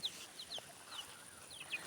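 Young chicks in an outdoor run give a few soft, scattered high peeping clucks, faint and close, with quiet gaps between calls and no talking.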